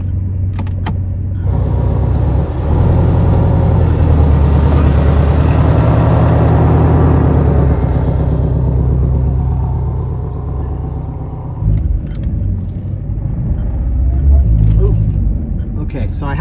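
A 2019 Porsche 718 Boxster drives along, a low, close engine rumble and road noise filling the cabin throughout, with a voice at times over it.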